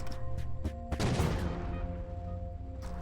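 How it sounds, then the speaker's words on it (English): Bombs thrown back at enemies explode in Everspace 2 as a cluster of sharp blasts with a broad roaring burst in the middle, over a steady hum of game music and engine drone. "See if we can make some big explosions happen. Throwing these bombs back."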